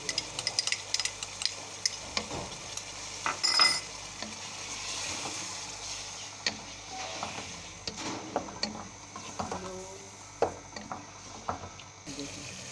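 Chicken liver kaleji masala in ghee with yogurt added, sizzling faintly while a spoon scrapes and clinks against the pot in irregular strokes, with a steady low background hum.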